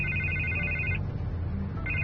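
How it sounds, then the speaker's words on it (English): Telephone ringing in Batman: The Telltale Series, a steady electronic ring tone that cuts off after about a second and starts again near the end, over a low background hum. "I can't get the phone to stop ringing."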